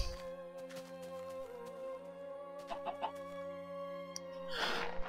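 Faint clucking from Minecraft chickens sits over steady tonal game music, with a few soft clucks mid-way and a brief burst of noise near the end.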